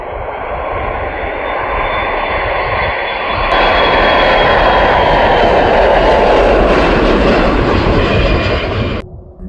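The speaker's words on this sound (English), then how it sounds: "we have an awesome KC-135 about to land" A KC-135 military tanker performs a touch and go at a Maine Air National Guard runway, a loud close jet roar that swells sharply partway through, holds steady, then cuts off abruptly.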